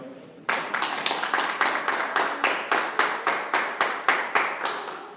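A church congregation claps in a steady, rhythmic beat, sharp regular slaps sounding together after a brief quiet start and carrying on evenly throughout.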